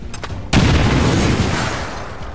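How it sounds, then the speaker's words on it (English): A hand grenade detonates in the video game XCOM: one sharp, loud boom after a brief quiet lead-in, followed by a rumbling, fading tail of debris. "he is going to deploy a hand grenade, with the full intention of getting rid of that Mouton's cover"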